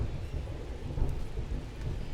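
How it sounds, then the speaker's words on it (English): A thunderstorm rolls in within a baseball video game, steady rain hiss with low rumbling thunder swelling and fading throughout, fairly loud and continuous with no talk over it. "Rain starting, thunderstorming."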